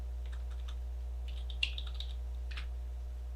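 A computer keyboard being typed on to enter a name, age and salary: short bursts of light, close key clicks over a steady low hum.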